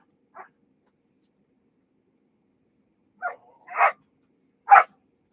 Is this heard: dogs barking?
yes